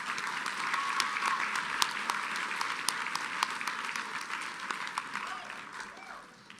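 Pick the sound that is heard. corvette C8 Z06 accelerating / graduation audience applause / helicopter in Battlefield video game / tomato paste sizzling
graduation audience applause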